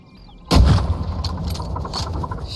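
A single loud rifle shot in the game Red Lantern cracks out of near silence, then rolls off into a rumbling, echoing tail.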